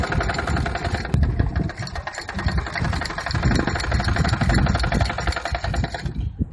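A sewing machine runs steadily through a blouse side seam, a fast continuous mechanical chatter up close that stops abruptly at the end.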